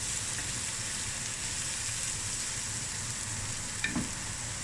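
Chopped garlic sizzles steadily in a pan on medium heat, a continuous close frying hiss with a brief stir or clink near the end and no talking.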